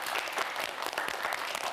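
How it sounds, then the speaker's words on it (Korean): A Korean TV quiz show's studio audience applauds the four student contestants with a dense burst of clapping, close and lively, lasting under two seconds. "큰 박수 보내주세요"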